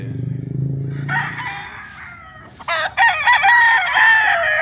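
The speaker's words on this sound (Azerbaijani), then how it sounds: "Burada nə qədər xoruz var." Fighting roosters crow loudly and close by, one long drawn-out crow after another, with a low rumble in the first second.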